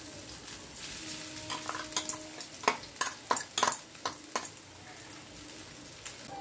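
Ground green peas hit hot white oil with whole cumin seeds in a kadai, sizzling steadily while a spoon stirs and scrapes the pan in a burst of sharp clicks and knocks.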